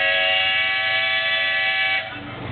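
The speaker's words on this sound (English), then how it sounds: "this is the whistle call that went when you had steam up." A steam engine whistle at the Rollag WMSTR steam show blows one long, loud, steady blast close by, then drops off abruptly near the end to a quieter tail.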